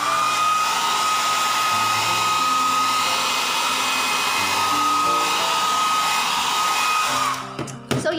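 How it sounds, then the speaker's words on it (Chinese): A hair dryer blows steadily and loudly up close, drying varnish on a decoupage notebook. The even whooshing roar holds for about seven seconds, then cuts off, leaving a few faint handling clicks. "So blow dry then completed already."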